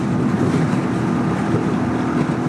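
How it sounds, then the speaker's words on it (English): Strong wind buffeting a microphone outdoors beside a motorcycle, a loud continuous low rumbling roar with gusty fluctuations, no speech. "It is windy out here today."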